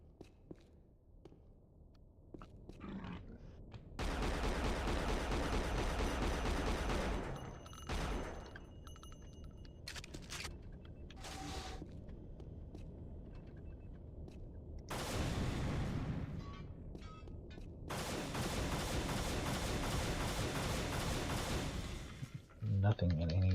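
Explosions and gunfire in the 1998 PC shooter Unreal Gold, with several long loud bursts of blasts and rapid fire separated by quieter stretches of sparse clicks and footsteps.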